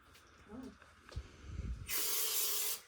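Spray adhesive hisses out of an aerosol can while a Jeep Cherokee headliner is being replaced, a loud, close burst of spray lasting about a second after some brief speech and handling sounds.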